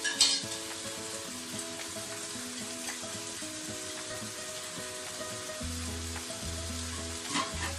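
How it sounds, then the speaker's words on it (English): Spicy Korean bulgogi pork with garlic simmers in a pan, giving a steady, even sizzle that holds unbroken throughout, close and moderately loud, with no voices. "I'm going to let it simmer for a while"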